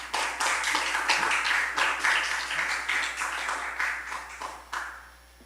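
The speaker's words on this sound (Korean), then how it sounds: "우리 목사님 사랑하는 마음으로 환영하고 또 축복하는 박수로 우리 환영하도록" Congregation applauds in welcome of a visiting guest pastor at a Sunday church worship service, a steady burst of many hands clapping that fades toward the end, with no talk over it.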